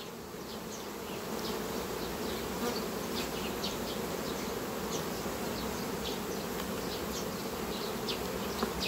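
Honey bees hum in a steady, dense buzz around queen cells being sorted in hive boxes, continuous and fairly close with no voices.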